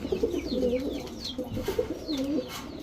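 Giribaz high-flyer pigeons cooing in a steady run of soft, throaty, rolling coos, close and continuous, with faint chirps and flutter in the background.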